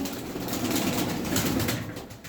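Aksaray tumbler pigeons softly cooing in a loft, a low, faint murmuring coo running continuously for a couple of seconds with no talk.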